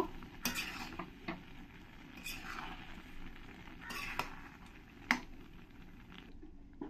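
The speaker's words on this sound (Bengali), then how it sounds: "এবার এর মধ্যে দিয়ে দেব একটু হলুদ আর দিয়ে দেব 1 চামচ লবণ। দিয়ে একবার সবকিছুর সঙ্গে মিশিয়ে নেব।" A spoon stirs turmeric and salt into masoor dal in a pan, making soft wet squelches and scrapes with a few sharp clicks of utensil against metal, quiet and close, with no talking.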